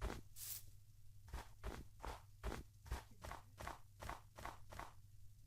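Steady crunching footsteps in snow, about a dozen evenly paced steps close to the microphone, with a low hum underneath and no talking.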